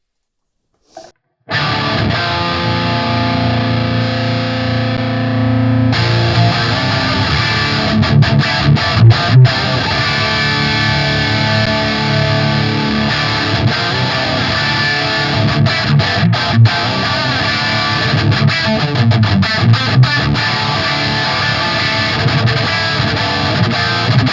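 Guitar played through an EL84 valve amp and a Synergy SYN20 impulse response, giving a dense, continuous distorted tone that thickens after a few seconds, with steady strumming and no talk.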